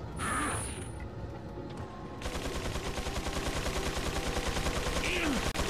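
Gunfire in the Resident Evil 4 video game comes as a rapid burst of mechanical rattling shots, loud and close, under game sounds, after a brief moment of quieter ambience.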